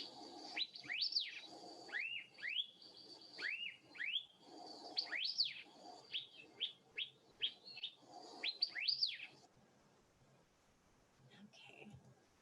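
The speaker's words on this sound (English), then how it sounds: "And this is what they sound like." Hawaii elepaio song in a forest: a series of about a dozen clear, sweeping whistled chirps at close range, fairly quiet, thinning out toward the end.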